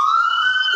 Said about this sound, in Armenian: շտապօգնությունը եկավ